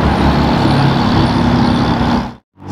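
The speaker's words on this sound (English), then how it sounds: "675 LT with the roof scoop" A McLaren 675 LT fitted with an MSO roof scoop drives past on a busy street, a loud, steady, close engine roar that cuts off abruptly near the end.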